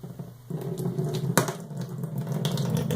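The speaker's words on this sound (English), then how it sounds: "we're going to time how long it takes for this water to drain out of the tube" Water draining out of a tube during a porosity and permeability lab, a steady close trickle that starts abruptly and keeps running evenly, with a sharp knock partway through.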